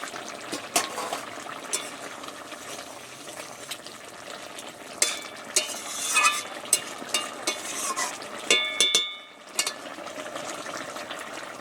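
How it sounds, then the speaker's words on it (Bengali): A fish curry cooked with cumin paste simmers and sizzles quietly in a pan, with light bubbling, occasional stirring clinks and a brief pour of liquid, and no talk. "জিরে বাটা দিয়ে দিয়েছি, একটু সামান্য ফুটিয়ে নামিয়ে নেব।"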